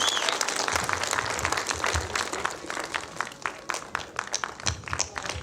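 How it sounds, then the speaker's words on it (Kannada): An audience applauds steadily at a film title launch event, a dense spread of claps lasting throughout with faint crowd murmur beneath. "ನಿಮ್ಮೆಲ್ಲರ ಚಪ್ಪಾಳೆಯೊಂದಿಗೆ ಇದೀಗ ಅನಾವರಣಗೊಳ್ತಾ ಇದೆ"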